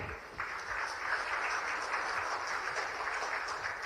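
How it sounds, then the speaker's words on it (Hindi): An event audience breaks into steady applause, a continuous wash of clapping at moderate distance with no pauses. "एक बार और जोरदार तालियां हो जाए।"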